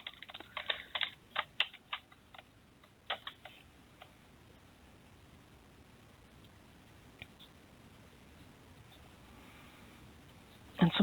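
A password is typed on a computer keyboard in a short flurry of close clicking keystrokes, then the room falls mostly quiet, with a few stray taps and a louder clatter at the end.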